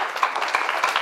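An audience at a comedy roast claps in a short, dense burst of applause, steady and fairly close, with no voices over it.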